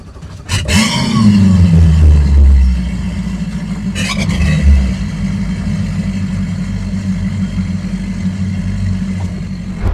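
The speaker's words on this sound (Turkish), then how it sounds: "size kısaca motorun sesini de dinletelim" A Northstar ION 10.5 speedboat's 900 HP outboard engines rev up loudly, then settle into a steady rumbling drone, with a second brief throttle burst partway through.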